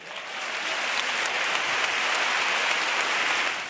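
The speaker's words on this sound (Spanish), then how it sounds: "Quiero pedir un gran fuerte, pero fuerte aplauso para estos locos de las ondas." A large gala audience at the Premios Ondas 2017 awards ceremony in Seville applauds heartily, a dense, steady wash of clapping that stays loud and even throughout with no voices on top.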